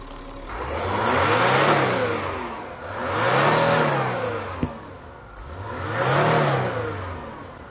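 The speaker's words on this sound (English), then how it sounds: "when I was revving it" A Citroën C6 engine revs up and falls back three times in a steady rhythm, each rise swelling to a loud, close roar before easing off, with a faint exhaust leak present.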